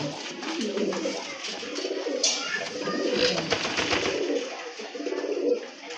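A racing pigeon coos repeatedly nearby in soft, throaty rolling calls, with faint rustling and background noise around it.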